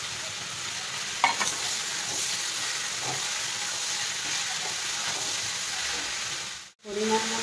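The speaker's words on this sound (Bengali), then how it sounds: "এবার গাজর আর মটরশুঁটিটা দিয়ে দেবো।" Carrots and peas tipped into a pan of mixed vegetables already frying, giving a steady, loud sizzle and hiss with a few stirring knocks, then a brief drop in sound before the sizzle returns.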